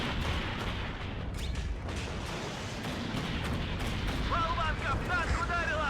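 Dense rumbling battlefield noise in the game Warno, with rapid 30 mm autocannon shots blending into continuous loud booms and crackle, and a voice talking over it near the end.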